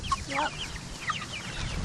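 Farm chickens cluck close by in a short burst of several calls over low background noise, with no talking.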